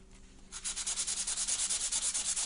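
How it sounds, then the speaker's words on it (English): Fine sandpaper lightly rubbed back and forth over a small trigger spring bar from a Ruger SP101 revolver, a close, rhythmic series of quick scratchy strokes starting after a brief quiet moment. "So what you can do with this little bar right here, is you use some really fine sandpaper."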